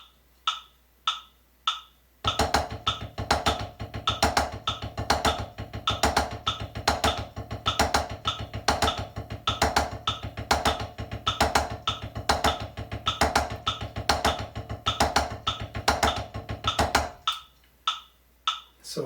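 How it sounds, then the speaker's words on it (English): Paradiddles at 100 BPM on a drum kit: a few sparse taps lead into about fifteen seconds of steady, evenly spaced sticking with alternating strokes and a low drum thump under it, then a few isolated hits to close. "Here's what they sound like at 100 beats per minute."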